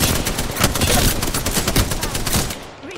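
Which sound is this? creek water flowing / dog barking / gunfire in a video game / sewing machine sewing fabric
gunfire in a video game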